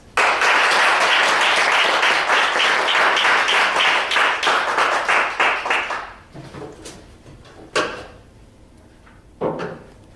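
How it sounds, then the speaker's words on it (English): An audience in an evening speaking event bursts into loud, dense applause that fills the room for about six seconds, then thins to scattered claps and a couple of sharp knocks. "let's give a hearty round of applause as we introduce to you Wayne Smalls"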